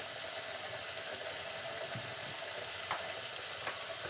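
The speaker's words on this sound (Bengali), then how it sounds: "আস্তে আস্তে নাড়াচাড়া করতে করতে ভাজিটা আমার হয়ে আসছে" Yardlong beans being stir-fried in a pan produce a continuous gentle sizzle, with a few faint scrapes from slow stirring, steady and moderately quiet.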